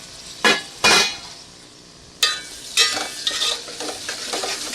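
Ingredients for aloo biryani sizzle in a pan while being stirred, with a few sharp bursts of scraping and frying noise spaced apart, then a lighter, busier crackle near the end.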